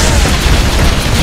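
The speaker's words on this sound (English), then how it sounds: "It's the guy shooting." Video game gunfire rattles in a loud, dense stream of rapid booming bursts and pops that run together without a break, close and harsh, with no talking over it.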